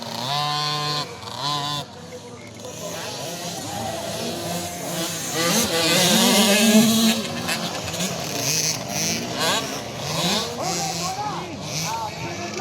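Racing 50cc motorcycles buzz high and thin as they pass, engines rising and falling in pitch, with a louder swell around the middle as the bikes come close. A commentator talks over the engines throughout.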